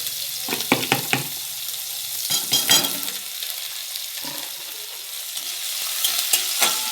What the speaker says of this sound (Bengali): এবার আমি দিয়ে দেবো কুচিয়ে রাখা পেঁয়াজটাকে